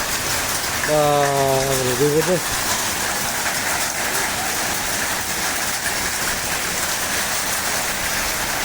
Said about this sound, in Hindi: यहाँ पर भी देखो ये सही आ गए यार ओले।